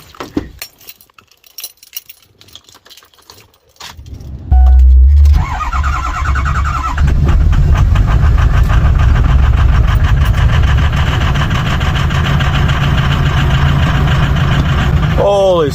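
A truck's engine cranks after some quiet clinking, catches with a loud burst, then settles into a steady, rumbling idle held for about ten seconds.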